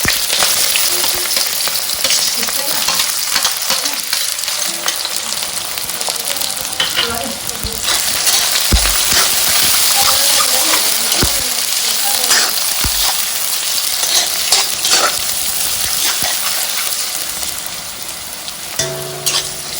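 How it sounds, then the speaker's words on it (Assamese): Onions sizzle and fry steadily in hot oil in a kadai for pork with bamboo shoot, a continuous close crackling hiss with occasional stirring knocks and no talk. "পিঁয়াজখিনি অকণমান সময় এনেকৈ ভালকৈ ভাজিব লাগিব"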